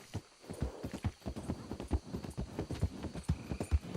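Horse hooves clip-clop steadily in the video game Red Dead Redemption 2, an even rhythmic gait of soft thuds close by, moderately quiet and alone without talk.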